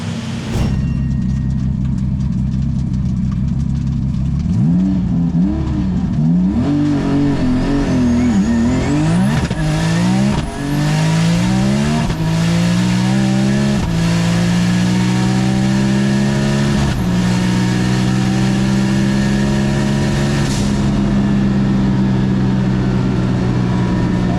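A race car engine of about 1,873 wheel horsepower revs hard and loud on a dyno, pitch sweeping up and down repeatedly before holding a sustained high-rpm roar, close by.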